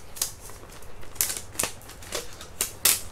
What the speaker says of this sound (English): I'm going to hold this flat and I'm going to peel it off